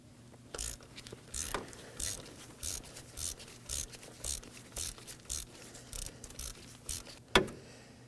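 A 14mm socket on a ratchet and extension loosens a spark plug on a 2018-2024 Chevrolet Equinox 1.5L four-cylinder, a series of close clicking ratchet strokes at steady intervals ending in a sharper crack, no talking.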